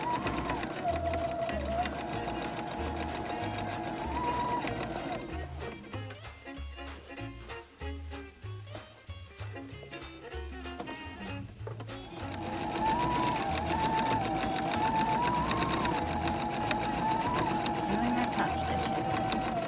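A sewing machine stitches Christmas napkins in a steady, close, rapid whir, with a rougher, more clattering stretch in the middle before the smooth run resumes, with a voice talking over it.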